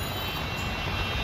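A steady, loud broadband rumble from a train on the rail line, continuous with no distinct clacks and no voices.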